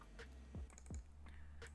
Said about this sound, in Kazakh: Ендігі кезек маған осы жерге өзіме қажетті текстті жазу